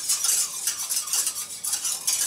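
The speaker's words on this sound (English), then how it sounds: "Every couple minutes, give it a quick stir." A spoon scrapes and clinks against a pot as thick Mumbo barbecue sauce is stirred while it simmers, a close run of quick uneven strokes with no voices.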